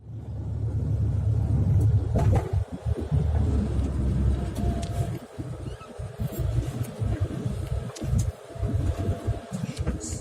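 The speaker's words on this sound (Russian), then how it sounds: "Вот он, автобус" A bus engine rumbles loud and close with heavy low-end drone, easing off partway through into a choppier, uneven idle with passing road noise.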